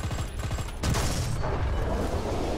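A tank cannon shot and impact in the War Thunder ground battles game, a sharp loud boom followed by sustained rumbling blast noise and clatter.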